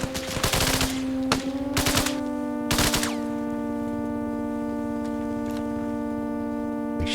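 Gunfire in the Arma Reforger military simulation game: several sharp bursts of automatic fire in quick succession, loud and close, followed by a lingering ringing tone with no voices.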